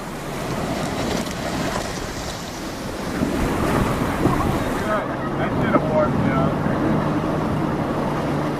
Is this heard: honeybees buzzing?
no